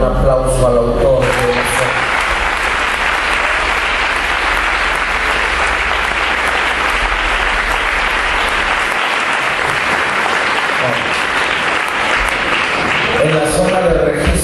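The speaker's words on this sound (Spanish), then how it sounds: "Dar un aplauso al autor." Sustained applause from an audience at a religious gathering, dense clapping that fills the room for most of the stretch and then fades out as speech resumes.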